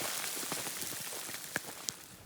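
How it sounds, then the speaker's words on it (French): Hail mixed with rain patters steadily on a hiker's gear and surroundings along the Continental Divide Trail, with a couple of sharper single impacts standing out near the end. "Aïe, retour de la grêle."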